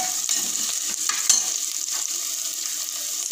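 Crushed ginger and garlic fry in hot oil with a steady, close hiss and sizzle, while a spatula stirs and scrapes the pan in several light strokes.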